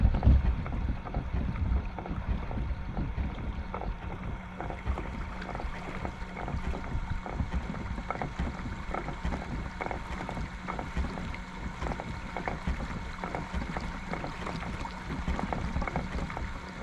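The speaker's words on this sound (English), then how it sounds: "Just cruising on the kayak." Kayak gliding across Clark's Hill Lake, with a steady low rumble of water and wind buffeting the microphone throughout, no voices.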